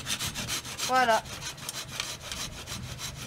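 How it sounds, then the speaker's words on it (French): Steady back-and-forth hand sawing through a tree trunk, a continuous rasping rhythm up close, with a brief spoken word partway through. "Première étape, on scie l'arbre."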